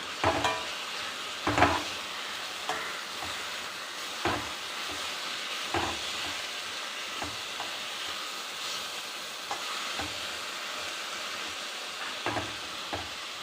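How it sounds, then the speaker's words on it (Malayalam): Horse gram thoran cooks in a pan with a soft, steady sizzle, while a spoon stirs it in intermittent scrapes and taps at moderate distance. "ഇതിനെ ഇളക്കാം"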